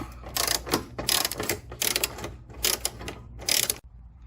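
A ratchet works loose the headlight bolts on a 2015 Honda Civic, giving bursts of quick metallic clicking close by, separated by short pauses, before stopping abruptly.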